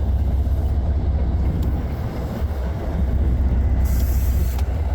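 A passing train of about six or seven cars plus the engine, heard outdoors at a park as a steady, loud low rumble and rolling clatter that continues throughout without pause.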